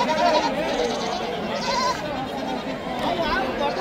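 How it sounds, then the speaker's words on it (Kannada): Goats bleat repeatedly and overlap in a busy weekly Friday morning livestock market in Mudhol, Karnataka, with people talking throughout over the crowded animal noise. "ಎಲ್ಲ ಮೇಕೆ ಅವು."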